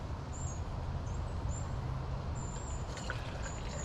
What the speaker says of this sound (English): And I'm just going to fill this right below that 8 ounce line.